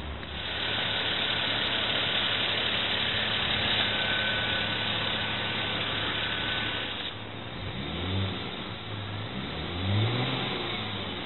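A 2009 Volvo S80 engine starts and settles into a steady idle, then revs up in a couple of rising swells toward the end, heard fairly close and without talk.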